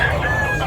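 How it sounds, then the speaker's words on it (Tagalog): A rooster crows briefly over constant background bustle at a poultry market in Tabunok, Cebu, the call drawn out and moderately loud within the surrounding noise. "Dami pang manok mga idol dumating"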